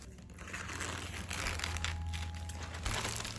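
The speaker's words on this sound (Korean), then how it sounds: "닭구템 주문한 거 뜯어보려고요" Crinkly plastic packaging being torn open and crumpled for a newly ordered item, a steady close rustle and crunch running throughout with a low hum underneath.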